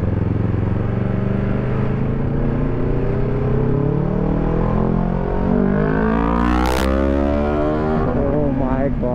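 A TVS Apache RR310 motorcycle revving hard on a highway, its exhaust note climbing and falling in sweeping harmonic tones with a brief sharp burst midway, loud and close against constant wind rush.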